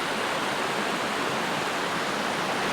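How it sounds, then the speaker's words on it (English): A waterfall pours over a rock platform into small rock pools in the Australian bush, a loud, dense, continuous roar of rushing water with no other sounds standing out. "that's where the awesome waterfall is I know in this area"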